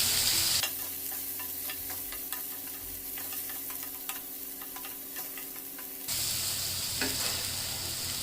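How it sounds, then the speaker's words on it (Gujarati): Dry moong sabzi is stirred in a pan with a spoon, producing repeated close scraping clicks over a soft sizzle, with louder kitchen noise at the start and end. "હવે આ બધાને સારી રીતે મિક્સ કરી લઈશું"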